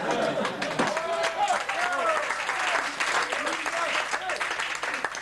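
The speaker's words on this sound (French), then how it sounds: "sous vos applaudissements, monsieur Laurent." An audience bursts into sustained, dense applause for a guest at a French television show, steady and loud throughout with some crowd chatter mixed in.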